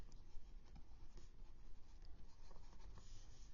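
Soft, steady scratching of a coloring tool shading green onto a rough sketch on paper, faint and continuous without pauses, with no voices.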